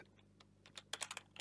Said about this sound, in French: donc ici je tape